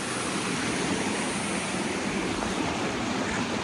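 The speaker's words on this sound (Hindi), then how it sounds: "आबशार बहुत ऊपर से आ रही है।" A waterfall drops from high up near Naran, producing a loud, unbroken broadband roar of rushing water that stays steady and close for the whole stretch, with no voices over it.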